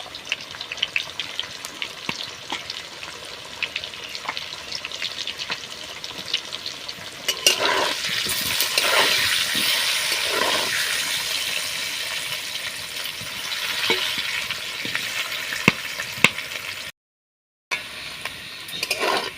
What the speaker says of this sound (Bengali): আলুটা এরকম লাল লাল করে ভেজে নিয়েছি চিকেনের জন্য